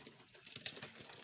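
Soft, low cooing from pigeons and their chicks close by, a quiet burbling murmur lasting about a second.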